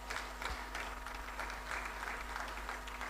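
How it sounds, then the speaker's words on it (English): An audience applauds at a leadership celebration for a state legislator, giving steady, moderately distant clapping over a low constant hum. "A round of applause for Honorable Laura Hall."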